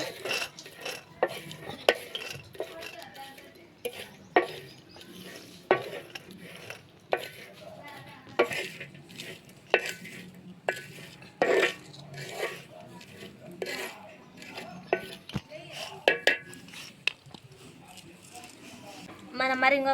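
Dried shrimp fry dry in a pan with no water while a utensil stirs and scrapes them, making frequent clinks and scrapes over a low sizzle as a person talks throughout.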